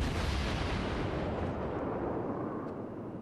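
Naval gunfire in the World of Warships video game: a dense, rumbling barrage of booming shots that fills the whole clip, loud and steady before easing slightly toward the end.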